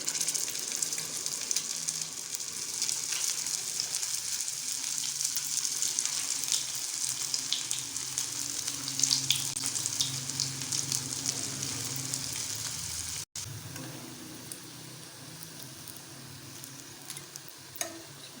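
Bread cutlets fry in hot oil, giving a steady, close sizzle and crackle that continues throughout, softening slightly toward the end, with no talking.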